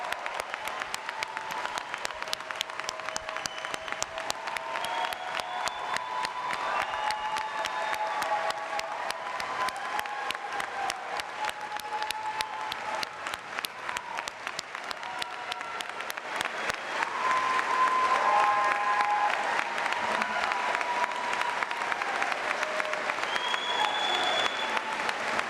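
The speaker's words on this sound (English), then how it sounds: "Please join me in offering a big round of congratulations and applause for all members of the Case Western Reserve University School of Law, Class of" Sustained audience applause for the graduating law school class at a university diploma ceremony, a dense, steady roar of many hands clapping that swells louder near the end, with faint crowd murmur beneath.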